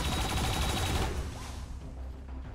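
Gunfire in XCOM 2: War of the Chosen, a loud, dense burst of shots that fills the first second and then trails off into a fading rumble, with no voices over it.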